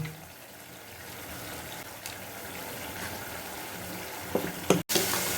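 Water poured into a spice masala with salt frying in a pan for a vegetarian winter vegetable dish, giving a steady close sizzle and hiss, with a few sharp clatters near the end.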